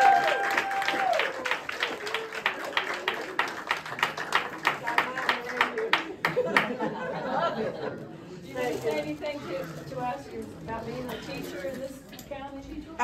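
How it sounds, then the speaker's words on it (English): A crowd applauds a school district's teacher of the year: sharp, dense clapping for about six seconds, fading into chatter and light laughter as people talk. "So one more time, a round of applause."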